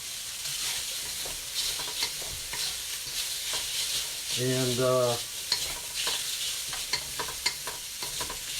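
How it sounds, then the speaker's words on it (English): Dungeness crab stir-fried in a pan, a loud continuous sizzle with repeated scraping and clattering as the pieces are tossed and mixed, plus a brief tonal squeal midway. "Stir fry is kind of difficult to get it all mixed up sometimes, so you have to do this action."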